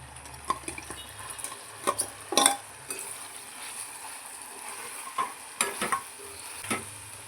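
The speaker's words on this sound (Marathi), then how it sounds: "एक दोन ते तीन मिनटं परतून घेऊया आपण तेलामध्ये" Marinated soya chunks sautéing in oil in a pan, with a soft sizzle under a run of intermittent spoon scrapes and clinks against the pan.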